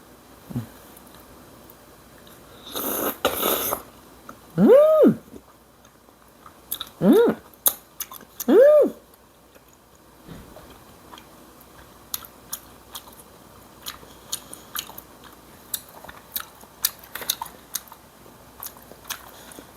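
Eating a spicy rosé dish with Chinese glass noodles at home, with a few soft slurps and chewing sounds close by, separated by quiet gaps and faint clinks.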